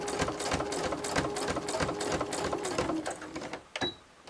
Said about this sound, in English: I'm going to go back up along this line of stitching on the outer edge